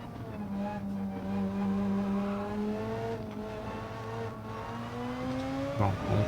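A race car engine in the video game Gran Turismo 7 drones steadily at high speed, its pitch holding and then climbing gradually, with a brief sharp shift near the end; no one talks over it.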